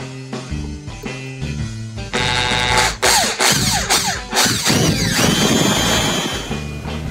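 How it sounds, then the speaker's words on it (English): A power drill bores holes to mount GlowStep truck camper steps: loud, close bursts of whirring motor noise that start, stop and rev repeatedly, with shifting pitch as the bit bites. "Next, you will drill them out."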